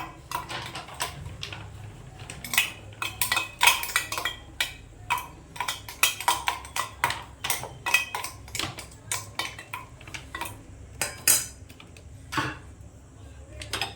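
Cooked meat being mixed by hand into grated potato in a bowl for a chicken snack, with irregular clinks and taps of utensil on the bowl, close and sharp over a quiet background.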